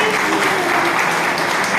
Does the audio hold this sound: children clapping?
yes